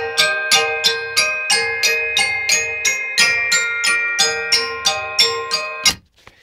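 Four or five xylophones play together in a steady run of evenly spaced wooden strikes, roughly two per second, bright and close with short resonant decay, no speech, cutting off near the end.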